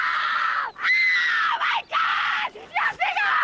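A woman screams several times in long, piercing, high-pitched bursts separated by brief gaps, loud and close.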